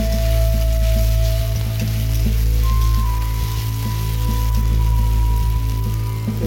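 Cumin seeds and green chili paste sizzle in hot oil while a Bengali soya pumpkin curry is cooked at home. A loud, close, steady crackling fry carries on throughout, with a faint tonal hum behind it and no talk.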